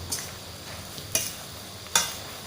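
Chicken with holy basil is stir-fried in a pan over a gas flame: three quick, close scraping strokes of a spatula cut through a soft, steady sizzle, with no talk.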